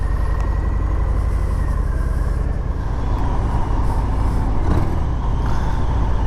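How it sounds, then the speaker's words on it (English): 2019 Harley Davidson FXDR 114 motorcycle on a test ride, its engine a loud, steady low rumble with constant wind roar, close and continuous with no speech. "Today I'm out test riding the new 2019 Harley Davidson FXDR"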